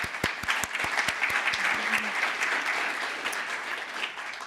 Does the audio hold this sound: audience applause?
yes